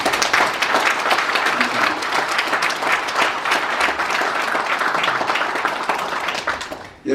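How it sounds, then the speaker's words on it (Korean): Indoor audience at a Korean business and youth leaders' conference breaks into sustained, dense applause, loud and even throughout before cutting off abruptly. "큰 박수 보내주십시오"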